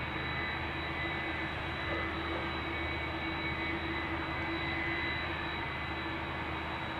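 Air Serbia Boeing 777-300 taking off from Amsterdam Schiphol, a steady, fairly faint jet engine roar with a constant whine, heard at a distance with no talk.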